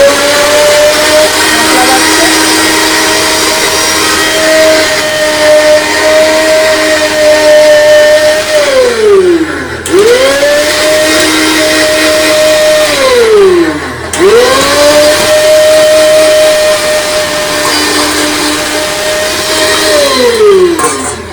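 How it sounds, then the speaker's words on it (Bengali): An electric mixer grinder grinding spice paste in a home kitchen, loud and close with a steady motor whine that spins down and restarts in pulses. "এখানে মা মশলা বাটলো"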